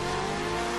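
A sports car engine revving, a brief sustained mechanical roar with steady low rumble and rich harmonic drone, loud and close.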